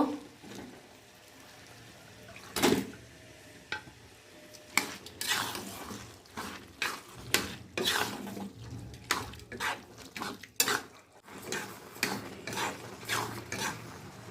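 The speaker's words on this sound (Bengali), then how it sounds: "এবার লাউটা দিয়ে দেব।" Chopped gourd being stirred into a pan with lentils and egg, giving a run of scraping, clattering spoon strokes that grow busier midway, close and fairly loud, with no talking.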